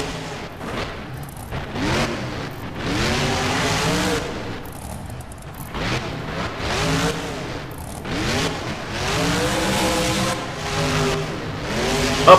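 Monster truck engine in the BeamNG video game, revving hard as the truck launches up and over a bus, with rising and falling engine tones through the jump and a thud at the end.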